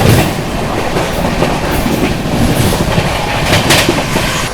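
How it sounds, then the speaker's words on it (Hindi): Howrah Rajdhani Express passenger train running at speed while overtaking, a loud, steady roar of wheels on rails with rhythmic clickety-clack and occasional high squeal, close and continuous throughout. "ये है अपनी दी one and only Howrah Rajdhani express Bharat की सबसे पहली राजधानी।"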